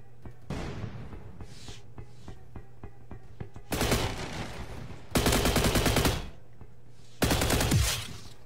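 Gunfire in the Roblox shooter Energy Assault: several loud bursts of rapid automatic shots, each lasting about a second, separated by quieter stretches with faint clicks.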